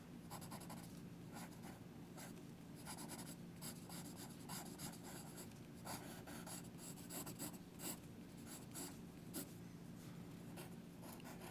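Steady scratching of a Berol Turquoise 2B graphite pencil sketching on paper, a close, continuous rasp with light stroke-by-stroke variation and no voices.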